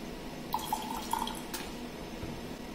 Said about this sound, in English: I will be washing the electrode.